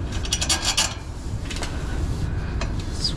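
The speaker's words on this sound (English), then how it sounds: "Let's put this nut and bolt right back." Metallic clicks and ratcheting as a nut and bolt go back onto a motor framing inside a commercial Johnson Controls rooftop HVAC unit, with rapid bursts of turning near the start and a few sharper taps after.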